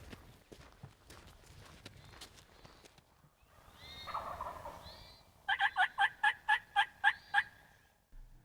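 Wild turkeys in Michigan woods, a roosted bird calling: soft footsteps and rustling first, then a few clucks and yelps, followed by a loud rapid gobble of about eight sharp pulses, then a short trailing note.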